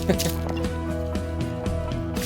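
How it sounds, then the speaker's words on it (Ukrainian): A perforated skimmer scoops ice slush out of an ice-fishing hole, making repeated wet sloshing scoops and dripping water in a steady rhythm up close. "Так, так, вичищає лід з лунки"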